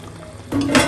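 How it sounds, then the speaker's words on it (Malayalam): Water is poured into a pot of chicken biryani after stirring, giving a brief loud splash that starts halfway through and swells near the end over quiet background noise. "പാത്രം കഴുകിയ വെള്ളം കൂടെ ഒഴിക്കുക."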